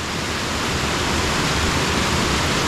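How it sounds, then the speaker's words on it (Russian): A waterfall near Sosnovka beach in Gelendzhik roars as a steady, loud rush of falling water that fills the whole clip with no break. "вот видите, сам водопад"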